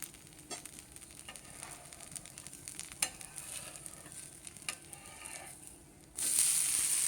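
A barley pesarattu dosa cooks in a little oil on a pan, giving a soft steady sizzle with faint scraping ticks, then a sudden brighter, louder hiss near the end.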